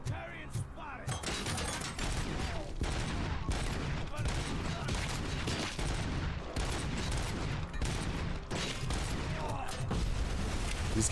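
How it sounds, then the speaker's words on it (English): Small arms gunfire in the video game Dune: Awakening, dense overlapping bursts of shots and impacts crackling continuously at close range, with faint voices now and then. "These guys' small arms fire"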